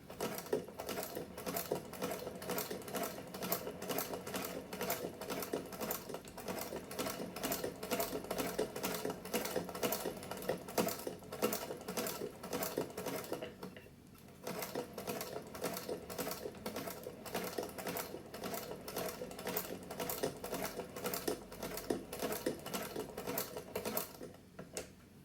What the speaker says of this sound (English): I'm just back stitching so that's locked in place.